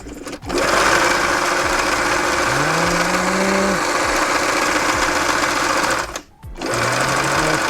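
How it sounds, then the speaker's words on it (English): A sewing machine runs its self-winding bobbin with a loud, steady mechanical whir and rattle that stops briefly near the start and again before the end, with a rising motor tone in between. "this is going to be my attempt to engage the self-winding bobbin"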